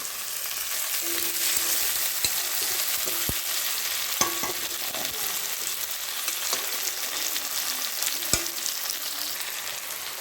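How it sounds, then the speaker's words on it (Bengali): Chopped tomatoes fry in a pan on low gas for a pointed gourd (potol) dish, giving a steady broadband sizzle with occasional sharp spatula scrapes and clicks as they are gently stirred. "টমেটো কুচিগুলো আমি দিয়ে দিচ্ছি আস্তে আস্তে তো হালকে একটু নেড়ে চেড়ে নেবে"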